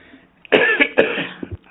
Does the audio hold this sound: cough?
yes